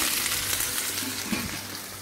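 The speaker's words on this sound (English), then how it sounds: "Right now, there's lamb and mushrooms on the grill." Steady sizzling of lamb and mushrooms frying on a hot grill at a campsite, a continuous crackling hiss with occasional louder pops, close and fairly loud.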